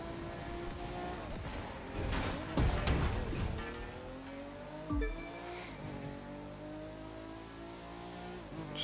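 Car engine in The Crew 2 racing game revving hard at speed, with rising and falling pitch sweeps, a couple of louder thumps and brief skid-like bursts, steady and close throughout with no talk.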